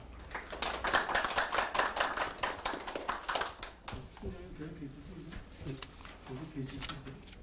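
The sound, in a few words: applause welcoming a speaker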